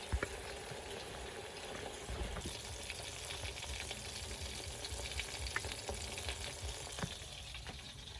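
Fish, a small kengfish fried whole with its bones for breakfast, crackles in hot oil with a steady dense sizzle and scattered sharp pops, moderately close and without voices.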